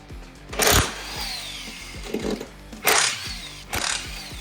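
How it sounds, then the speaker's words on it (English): An impact wrench spins off 15 mm frame brace bolts on a Polaris Sportsman/Scrambler 850/1000 ATV during a clutch job, giving three loud, close, rattling bursts separated by quieter workshop background. "So these are 15 millimeters. We're just going to run an impact on them to get them off."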